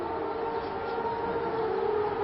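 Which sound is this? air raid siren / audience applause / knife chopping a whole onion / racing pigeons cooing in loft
air raid siren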